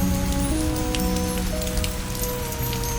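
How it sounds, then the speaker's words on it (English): Rain falls steadily into a stone basin, a dense continuous patter of drops close by with a few steady tonal hums running underneath. "the rain continues to fall into the stone basin"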